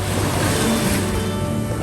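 Sea waves wash onto a beach in Busan as a steady broadband rush of surf, loud and continuous for a brief moment, with no voices.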